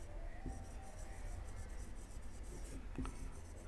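Faint strokes of a pen or marker squeak and rub across a board while a shear force diagram is drawn, with a few short scratchy marks over quiet room tone.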